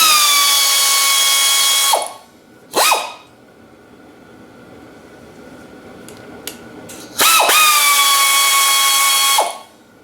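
A tool driving a 10 mm socket removes the sprocket bolts on a 1987 Honda XR200 motorcycle. It makes two long, loud, close whirring runs with a short burst between them, and each run winds down sharply before stopping.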